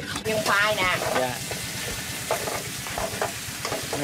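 Pieces of taro fry in a pan while duck curry is being prepared in a Vietnamese home kitchen, giving a continuous crackling sizzle with stirring, as people talk over it.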